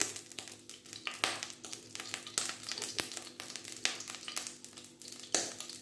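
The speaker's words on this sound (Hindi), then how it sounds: "तो चलें, सबसे पहले लहसुन अदरक डालते हैं।" Garlic and ginger sizzle and crackle in a pan over low heat for a restaurant-style black pepper chicken, a soft continuous frying hiss with occasional stirring scrapes, quiet and close.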